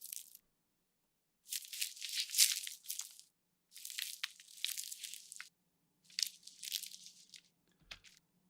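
A leather wallet rubbed against a microphone, processed with boosted highs into a creature sound, gives bursts of hissy, crunchy scraping in three main phrases with pauses between, plus a small thump near the end.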